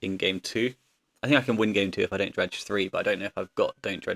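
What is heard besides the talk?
No distinct noise like a dog, phone or traffic.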